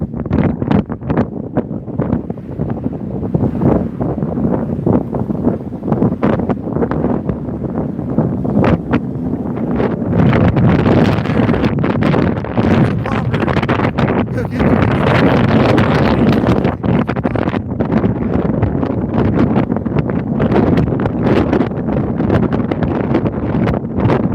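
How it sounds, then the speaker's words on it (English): Strong wind gusts roar across a Chicago street on Michigan Avenue in December, a steady loud buffeting rush that swells louder after the first several seconds and buffets the microphone throughout. "Let's see how much wind it catches."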